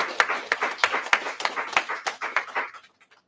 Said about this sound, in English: So I would like to applaud them.